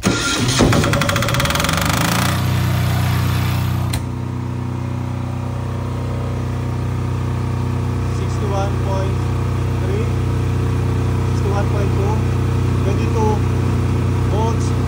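A PHILKING 10000STRA diesel silent generator cranks and catches amid clatter, then settles into a steady, even mechanical hum that runs on alone.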